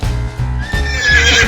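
A horse gives a loud, close whinny that rises into a long shrill neigh, with a low rhythmic background underneath, part of a children's cartoon about farm animals.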